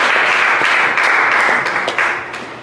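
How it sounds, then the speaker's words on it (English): A church congregation breaks into a hand clap during a sermon, dense and loud applause close by, swelling in bursts and tapering slightly toward the end. "See, y'all give him a hand clap."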